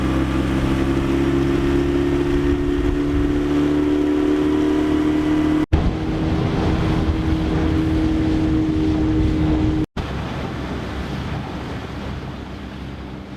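An outboard motor dinghy runs across the sea at up to 15 knots, its engine holding a steady hum under loud rushing wind and splashing water, with two brief dropouts.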